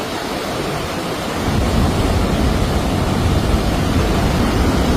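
Bridal Veil Falls on the American side of Niagara Falls roars as a dense, loud wash of crashing water, swelling stronger after the first second and a half and then holding steady, with wind buffeting the microphone.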